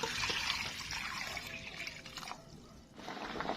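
Water, about a liter, is poured into a pot for boiling hala fruit (screwpine, pandan dagat), a continuous close splashing trickle that thins slightly toward the end.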